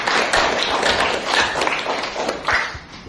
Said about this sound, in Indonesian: berikan tepuk tangan untuk rekan kalian ya